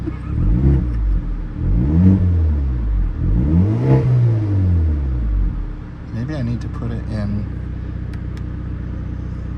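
A deep exhaust note from a 2024 Hyundai Elantra N in Sport Plus mode rumbles and revs up and down in slow swells, loud and close, while a person talks over it.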